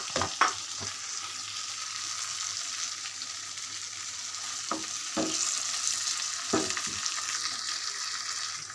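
Pabda fish frying in a pan give off a steady, close hiss of sizzling oil, with a few sharp clicks and scrapes from stirring or turning.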